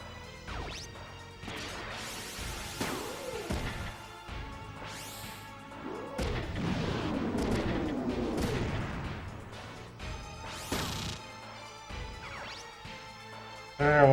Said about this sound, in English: Sure, we'll missile that.